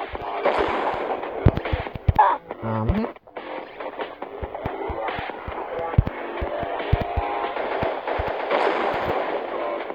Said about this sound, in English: I'm gonna have to shoot this guy